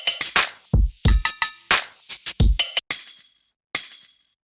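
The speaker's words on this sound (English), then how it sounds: "So it's this little tambourine sound that you hear." A tambourine sample in a beat, crisp jingling hits in a loose rhythm with deep low thumps between them, then two bright jingles ringing out alone with gaps of silence.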